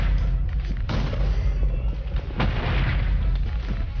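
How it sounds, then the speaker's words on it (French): Deep booming cannon shots from a Minecraft PvP swap game on the Epicube server, a few heavy rumbling thuds under continuous game noise with no pause between them. "on entend les 3 coups de canon, ça veut dire que je suis contre 3"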